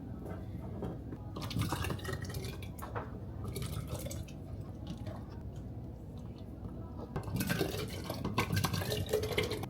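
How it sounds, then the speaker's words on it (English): Hot mason jars are filled with peach pie filling at home: continuous wet, dripping and squishing sounds of thick filling being ladled in, with irregular splats and clinks, close and steady throughout, a voice murmuring faintly underneath. "Got our jars, they're nice and hot. We're gonna go ahead and get them filled up."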